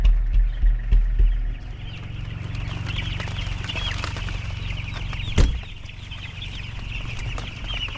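Chickens cluck continuously inside a chicken house on a livestock farm over a steady fan-like hum, with one sharp knock partway through.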